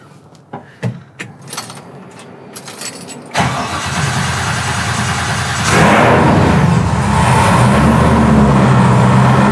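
A Chevrolet C10 truck engine starts with a thud after some clunks and rattles, then runs and revs louder, rumbling steadily up close as the truck backs up.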